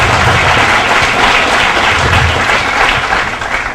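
A packed meeting-hall audience applauds in opposition to additions to the endangered species list, with dense, steady clapping filling the room for nearly four seconds before easing slightly at the end.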